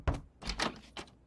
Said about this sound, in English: You knock on the door here.